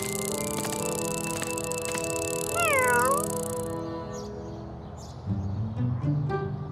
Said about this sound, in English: The kitten's even smelled the milk and has come to take a look.